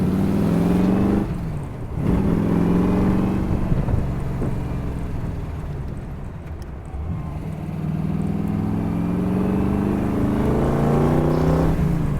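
A powerful sports car engine roars steadily for several seconds, rising and falling in pitch as it accelerates and shifts, with wind buffeting throughout.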